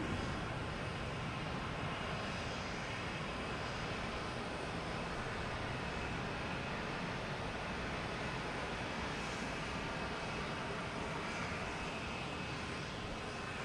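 A Lufthansa Airbus A380 at Boston Logan Airport produces a steady, broadband jet engine roar, distant yet dense, holding constant throughout with no talk.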